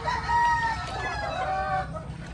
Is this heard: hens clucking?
yes